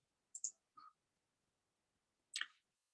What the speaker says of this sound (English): we're going to click on this